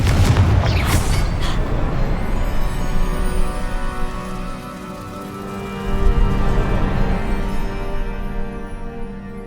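A Confringo blasting spell from the Hogwarts Legacy video game lands with a deep boom at the start, then a long rumbling, crackling tail that fades and swells again.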